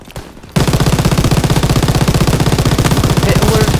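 Machine gun fire in the World War II shooter Call of Duty WW2, a loud sustained rapid burst of evenly spaced shots starting after a brief quiet moment and continuing without pause.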